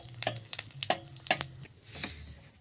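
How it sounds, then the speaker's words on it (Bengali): Cardamom seeds are stirred in hot ghee, three or four sharp scrapes and taps of a spoon in the pan over a low, quiet sizzle, close up with no voices. "এলাচ দানা আমি দিয়ে দিলাম ঘির মধ্যে, একটু নাড়িয়ে নিচ্ছি"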